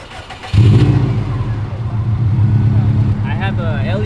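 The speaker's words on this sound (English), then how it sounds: "You want me to turn on the car or what?" A Subaru straight from Japan with a stage 2 clutch cranks and catches with a sudden loud burst, then settles into a steady, close idle rumble; voices come in briefly near the end.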